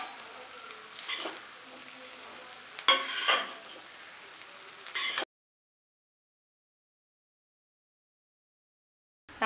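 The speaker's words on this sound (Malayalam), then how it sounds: "ഇനി റൈസ് കൂടി ചേർത്ത് കൊടുത്തിട്ട് വളരെ പതുക്കെ ഇതൊന്ന് മിക്സ് ചെയ്തെടുക്കാം" Rice and egg are stirred in a pan for egg fried rice, with soft frying and a few scraping strokes for about five seconds before the sound cuts to silence.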